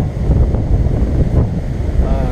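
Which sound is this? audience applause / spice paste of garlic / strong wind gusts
strong wind gusts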